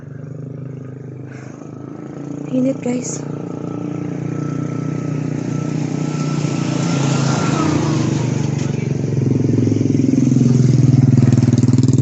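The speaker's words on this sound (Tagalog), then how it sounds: "Ayun na, may motor." A motorcycle engine passes on a busy street, its drone rising steadily and growing louder over about twelve seconds, with brief voices in the foreground.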